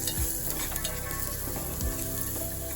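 Masala for cluster beans fry sizzles in a pan while being stirred, a continuous close frying hiss with a couple of scraping stir strokes, and no voices.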